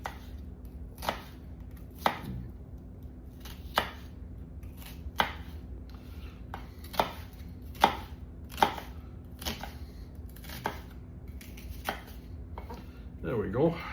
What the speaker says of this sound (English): I'm just going to slice the onion into thin strips.